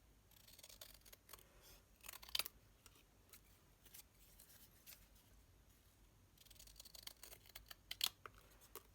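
Scissors snip through a handmade 80th birthday exploding card, giving two short, crisp cuts separated by a few seconds of quiet room noise; no one speaks.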